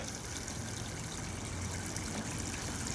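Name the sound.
water flowing over a garden waterfall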